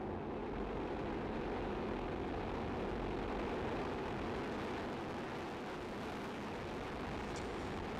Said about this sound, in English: Et décollage.